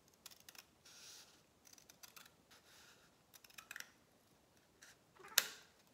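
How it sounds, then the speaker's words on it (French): Scissors cut cardboard in a series of quiet, crisp snips and scrapes with irregular rhythm, ending in one sharper, louder snip. "j'ai besoin de mes ciseaux. Est-ce que j'ai... Oui, alors. Donc, je vais essayer de couper droit"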